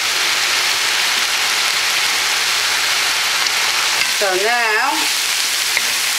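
Soy sauce sizzles loudly and steadily in a hot pan of mushroom and seaweed fried rice, a continuous close frying hiss with a brief spoken word over it.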